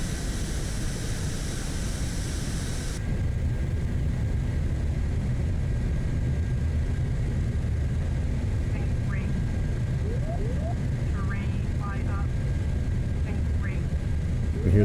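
Steady, loud engine roar of a C-17 transport jet making a high-speed pass in a flight simulator, broadband rumble sustained throughout with a slight hiss, while a person talks over it in bursts.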